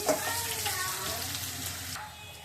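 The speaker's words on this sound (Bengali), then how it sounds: "এবার আলুর সাথে বড়িগুলো ভেজে নেব। আলু বড়ি দুটো একসাথে ভাজা হয়ে যাবে।" Potato pieces and lentil dumplings (bori) frying together in oil in a pan, a close, steady sizzle with light stirring scrapes.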